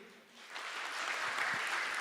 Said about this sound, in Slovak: Takže potlesk pre vás, milí účastníci.